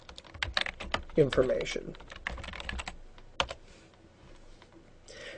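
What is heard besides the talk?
typing on a computer keyboard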